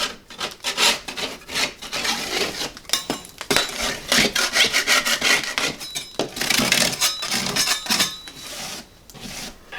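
A putty knife scrapes along a crack in an inside wall corner in quick repeated rasping strokes, close and scratchy, with brief pauses between passes and no talking.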